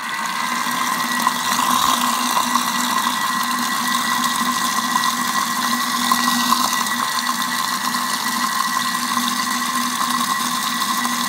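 An electric mixer whips cream for chantilly at speed 3.5, a steady whirring motor drone with a constant tone and slight rattle, continuous and fairly loud throughout.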